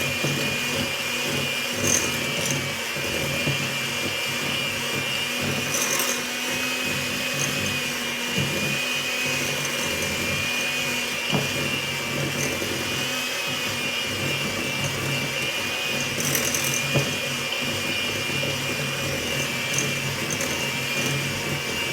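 Cookie dough for chocolate chip cookies churned by an electric mixer, a steady close motor whir with a grinding texture that runs unbroken, with occasional knocks against the bowl.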